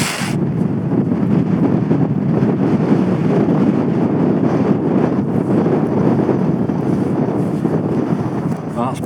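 Strong, sustained wind gusts buffet the microphone on an exposed British ridge, a loud, continuous roar with low rumbling surges that never let up through the whole stretch.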